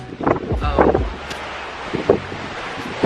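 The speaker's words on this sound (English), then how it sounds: "it's literally raining and so windy" Strong wind gusting across a cruise ship balcony in the rain, with buffeting microphone rumble, rustling and a few sharp bursts of noise, steady and fairly close.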